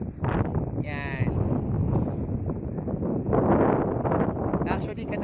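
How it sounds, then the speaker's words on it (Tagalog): Strong wind gusting across the open top deck of a boat on a trip to Calaguas, a steady roar of buffeting with people talking loudly over it throughout. "Ang hangin po dito sa ibabaw."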